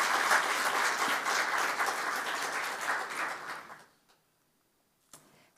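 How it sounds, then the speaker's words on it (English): An audience of newly admitted Rutgers high school scholars applauds at a student orientation, a full, loud burst of clapping that thins out and stops, leaving near silence and then a single faint knock. "please give yourselves a round of applause for your hard work as high school scholars to be admitted to Rutgers."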